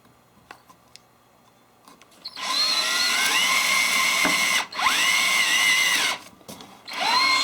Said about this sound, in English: Okay, so now I've got my 3/8 drill bit, and I have a piece of tape up 3/4 of an inch, so I'll know how deep to go into the hole.